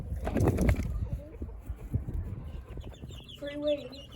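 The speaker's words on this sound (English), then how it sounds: "these are some of the chickies we got" Baby chicks, hatched from home-laid eggs, cheep and peep in a small chirpy cluster at close range, with a burst of louder rustling and fowl clucks near the start and a few higher calls toward the end.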